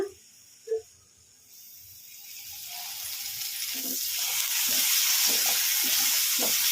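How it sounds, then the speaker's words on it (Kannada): Tomatoes fry in oil in a pan over a medium flame for okra chutney, the sizzle starting faint and rising to a steady hiss with soft stirring clicks throughout. "ಈ ಥರ ಕಲಿಸ್ಕೊಂತ ಚೆನ್ನಾಗಿ ಫ್ರೈ ಆಗೋವರೆಗೂ ಫ್ರೈ ಮಾಡ್ಕೋಬೇಕು"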